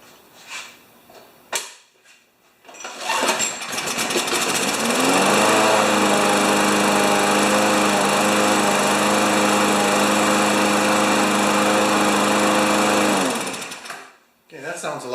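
A Poulan Pro lawn mower with a Briggs classic 190cc engine starts up after a couple of pulls, revs and then holds a loud, steady drone before cutting off near the end. Brief talk comes before and after.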